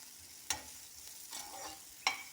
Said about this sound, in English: we're going to put some curry powder to give it that nice yellow color. And we're going to stir that up